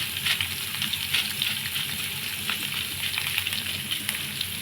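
Cumin seeds and garlic fry in hot oil in a pan, a continuous loud sizzle with crackling spits and no talking, made while cooking a Telugu ivy gourd chutney.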